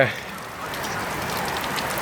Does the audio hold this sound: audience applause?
no